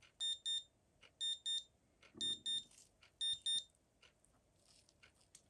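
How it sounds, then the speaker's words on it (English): A Casio game watch alarm beeps in repeated high, thin bursts, each group made of quick double pips separated by short pauses, fairly faint and close with no other sound. "to test the alarm, you press this button here."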